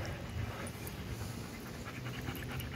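A German Shepherd dog pants steadily and close by during a tummy rub, with quick, even breaths running throughout, no voices.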